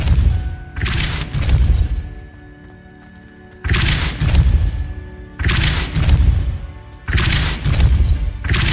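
Depulso spell impacts in Hogwarts Legacy land as heavy booming thuds, four loud bursts in an uneven rhythm with quieter rumbling between them and no talk.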